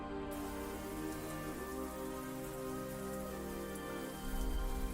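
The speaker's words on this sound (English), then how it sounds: "It begins raining." Steady rain falls in a heavily wooded area, a dense continuous wash of drops with a low tonal bed beneath and a slight swell near the end, no voices.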